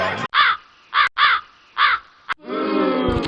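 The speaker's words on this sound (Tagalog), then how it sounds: "tumutunog ng mga uwak natin" Crows caw loudly and close by in four harsh, evenly spaced calls, followed by a burst of rough, noisy sound at the end.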